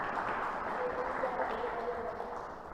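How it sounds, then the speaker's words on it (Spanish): A church congregation breaks into steady, dense applause that fills the room, holding loud and then tapering slightly toward the end. "Denle un fuerte aplauso a nuestro Señor Jesucristo"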